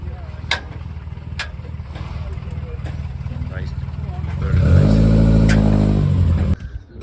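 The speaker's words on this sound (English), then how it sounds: "Fiat Mirafioroni 131 Abarth rally car." A Fiat 131 Abarth rally car engine idles low at the Saltburn-by-the-Sea classic hill climb, then revs up loudly and roughly nearby before cutting off, with talk and a few sharp clicks earlier.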